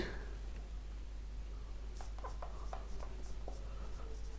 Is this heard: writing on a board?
yes